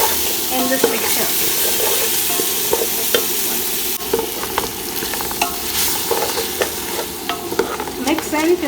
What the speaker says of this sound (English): And stir it nicely in this mixture.